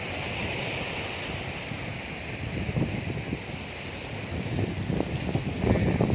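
Surf rolls in steadily at Tanjung Binuangeun beach in Lebak, Banten, a broad continuous wash with some wind on the microphone, gently swelling toward the end and heard alone without voices.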